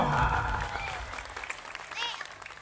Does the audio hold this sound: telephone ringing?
no